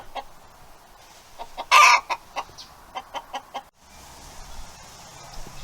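Chickens clucking on a farm in Deep South Texas after a polar vortex cold snap, a quick run of short clucks and one louder squawk standing out above faint background noise.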